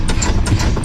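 Large farm tractor with air brakes idling up close, a loud, steady low-pitched diesel rumble with a truck-like throb, heard alone in a brief burst.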